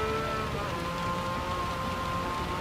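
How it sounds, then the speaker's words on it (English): Steady rain falls during a Gran Turismo 7 Porsche Cup race, a soft continuous hiss under a constant car engine drone. "it is raining"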